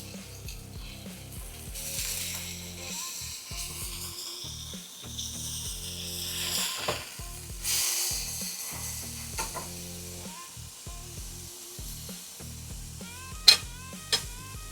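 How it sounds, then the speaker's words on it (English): A smash burger patty sizzles on a hot cooking surface, a moderate, steady frying hiss under occasional clicks and scraping noises. "we're going to let that cook up on one side, and then we'll flip it over and repeat the process"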